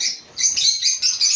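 Rosy-faced lovebirds chirp loudly and close as they are let into the flock, giving rapid bursts of shrill, high chatter with brief gaps between calls.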